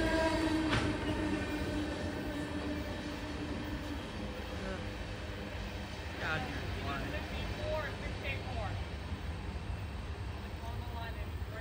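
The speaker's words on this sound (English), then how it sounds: "That is the end of an unknown NS tanker train on the Conemaugh Line in Creighton" The tail end of a Norfolk Southern tanker freight train on the Conemaugh Line in Creighton, Pennsylvania, rolls past as a steady, even rumble with faint wheel squeals and clanks, no voices.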